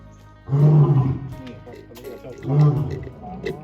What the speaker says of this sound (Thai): โอ้คำรามก้องดังไปทั่วก้องไปทั่ว บริเวณนี้เลย ก็สมสมกับเป็นเจ้าป่ายเลยน้องเลย